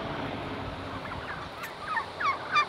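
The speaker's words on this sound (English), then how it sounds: "These are turkeys that are being raised for Christmas." Turkeys being raised for Christmas gobble and warble in a noisy outdoor flock, distant at first with a few louder calls near the end.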